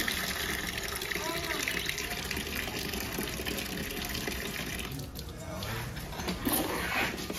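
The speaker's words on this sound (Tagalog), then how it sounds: "Lumalabas yung tubig." Water gushes steadily out of a repaired Asada hydraulic water pressure test pump, a continuous loud rush with people talking over it and a few knocks near the end.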